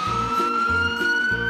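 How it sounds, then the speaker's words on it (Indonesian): A police siren in a video game wails loud and close in a fast repeating two-tone pattern, about three cycles over a steady electronic tone, with no speech. "seharusnya Upin tidak boleh pasang sirine ya"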